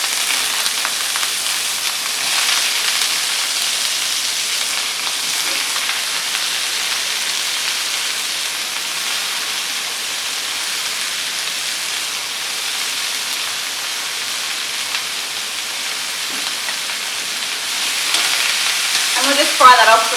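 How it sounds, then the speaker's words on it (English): Celery, carrot, leeks and spring onion softening in olive oil in a pan, a continuous close hiss and crackle of frying with faint clinks of stirring near the end. "we'll just fry that off for maybe 3 or 4 minutes, just to soften it"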